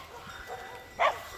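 Sheepdogs guarding a flock bark at a bear with two cubs: a single faint bark rises briefly from distant outdoor ambience, with soft indistinct sounds around it.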